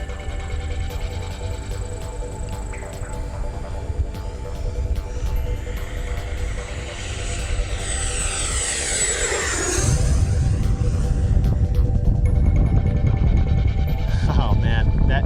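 A fast RC jet plane flies a high-speed knife edge outdoors, its turbine whine sweeping steadily past and rising into a louder, deeper roar in the second half of the pass.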